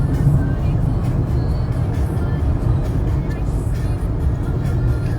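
Steady low road rumble of a vehicle driving, loud and continuous throughout, consistent with traffic and a truck on the road heard from inside a moving car, with faint voices in the background.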